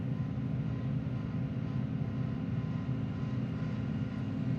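A tractor engine in a farming video game hums steadily while pulling a wagon toward the highway during a soybean harvest, a continuous low drone with no pauses.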